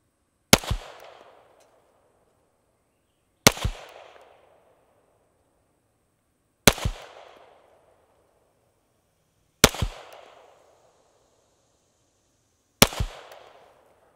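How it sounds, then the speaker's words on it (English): Five pistol shots fired one at a time at a bullseye target, each a loud sharp crack with a short decaying tail, spaced about three seconds apart, with quiet between them. "I'm just gonna take my time and shoot 5 shots to that center bull"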